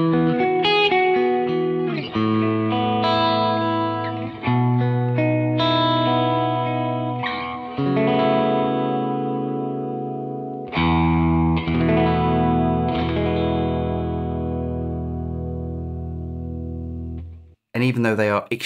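A Rickenbacker electric guitar with extremely low-output pickups rings out close and clear in sustained, effect-laden chords and picked notes, which cut off abruptly near the end.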